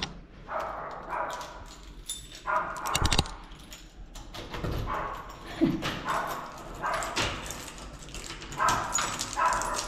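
A dog yips and whimpers in short scattered bursts around a home in Madrid, Spain, at moderate distance and mixed with ambient household noise.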